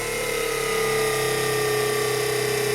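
An electric motor runs under load, giving a steady mechanical hum with sustained tonal whine and slight buzz, close and continuous for a few seconds without speech.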